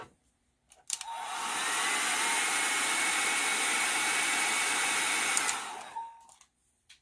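A hair dryer drying an alcohol ink flower painting, clicking on and blowing a steady loud whoosh for about five seconds before switching off, with faint handling clicks around it.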